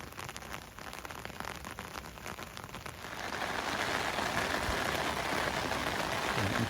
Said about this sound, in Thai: ฝนมาแล้วนะคะ